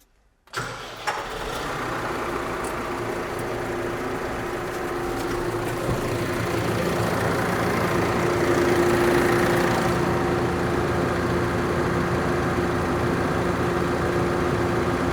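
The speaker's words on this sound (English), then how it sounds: "Right, let's get the engine started." An off-highway vehicle engine cranks and catches after a moment of quiet, then settles into a steady, loud, continuous idle heard up close with no talk.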